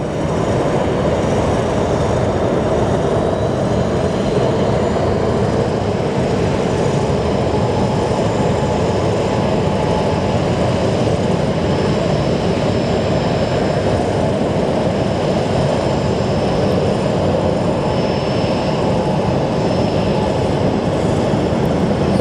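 Southwest airliner rolling at Phoenix Sky Harbor airport, a constant broad engine roar heard from a distance with no pauses.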